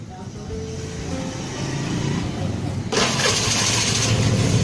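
A Vespa Matic LX 150 scooter, after a starter dynamo fault, cranks and catches, settling into a steady idle from about three seconds, close and fairly loud with a broadband engine rush.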